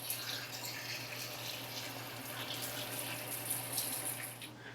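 Water runs through an Alloyman electric paint sprayer to flush it clean, making a steady, even rush and hiss throughout with no voices.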